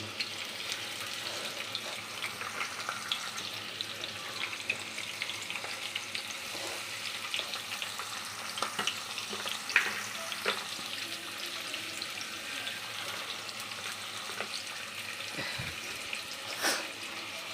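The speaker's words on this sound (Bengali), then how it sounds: "পেঁয়াজগুলো দিয়ে দিলাম।" Onions frying in hot oil with a little sugar and bay leaf, a steady soft sizzle with faint scraping and stirring, fairly quiet and close, no talk.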